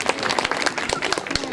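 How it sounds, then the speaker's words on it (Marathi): Audience clapping for women contestants at a Home Minister style festival event in Maharashtra, a brief, fairly loud patter of many hands mixed with crowd noise and a voice speaking over it. "खूप जरा टाळ्या वाजवा त्यांच्यासाठी."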